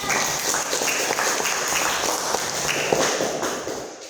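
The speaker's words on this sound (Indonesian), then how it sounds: "Kasih tepuk tangan dulu semuanya." A class of schoolchildren claps together in a steady burst of applause lasting several seconds, with no one speaking over it.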